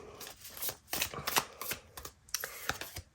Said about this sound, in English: So small and easy for me to shuffle.